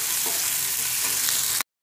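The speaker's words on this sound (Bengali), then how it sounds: "আর এইরকম সামান্য একটুখানি জয়িত্রী দিয়ে এটাকে আরো ভালো করে ফ্রাই করতে হবে।" Whole spices (cloves, cardamom, cinnamon and mace) frying in a pan for an egg masala curry, giving a steady, close hiss and sizzle with faint stirring ticks, cutting off abruptly at the end.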